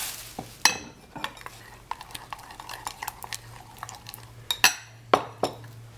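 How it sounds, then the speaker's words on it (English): A utensil stirs liquid into sourdough starter in a glass jar, giving repeated clinks and scrapes against the glass at an irregular rhythm, close and fairly loud, with no talking. "I will stir the liquid in so that it has the same hydration."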